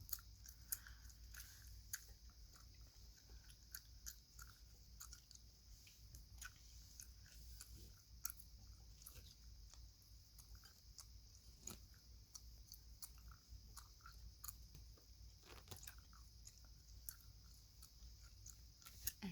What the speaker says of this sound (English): I'll just chew my gum.